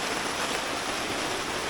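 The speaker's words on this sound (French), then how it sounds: "Il pleut" Dense, steady hiss of rain pouring down in the jungle at Bukit Lawang, heard from under shelter, even and unbroken throughout with no voices.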